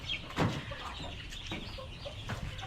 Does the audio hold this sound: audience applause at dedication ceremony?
no